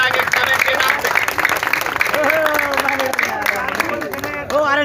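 Crowd clapping at a disability-rights protest rally held outside a municipal commissioner's office, a dense wash of applause filling the whole stretch, with voices shouting and talking over it and one speaker's voice rising near the end.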